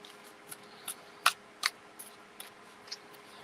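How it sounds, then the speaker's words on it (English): Slavic Legends tarot cards being shuffled, a string of light, crisp flicks and snaps spaced about every half second, close and fairly quiet with no talking. "Let's see how good these shuffle."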